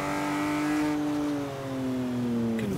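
A TVR Sagaris engine in Forza Horizon 3 holds a loud, sustained tone that slowly drops in pitch as the car slows, ending with a quick shift in the note.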